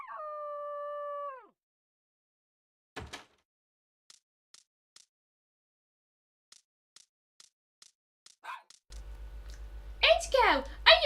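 Dog Indigo howls in The Dog Island video game, a high-pitched wavering howl at the start, followed by scattered short clicks and knocks and then a burst of bright game sounds over a low hum.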